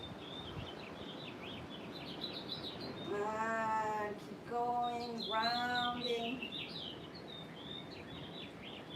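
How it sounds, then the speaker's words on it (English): Small birds chirp in bright, repeated tweets through a quiet outdoor setting behind a calm yoga instructor's voice, with a louder burst of sound in the middle. "Can you hear the birds?"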